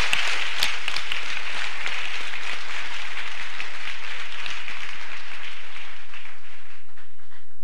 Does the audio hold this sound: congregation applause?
yes